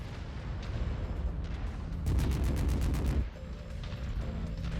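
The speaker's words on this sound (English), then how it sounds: "I hate getting shot by PPCs" PPC weapon fire striking a mech in the video game Merc Life, a harsh crackling burst of rapid pulses lasting about a second over a constant low rumble of battle.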